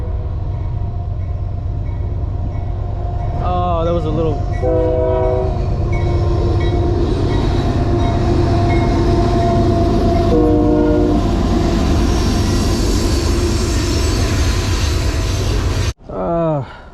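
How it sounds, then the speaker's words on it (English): A passing train rumbles steadily beside a creek during a fishing trip, sounding its horn in several loud blasts, with a man's brief remark heard over the rolling noise before it cuts off near the end. "Oh, comes another train."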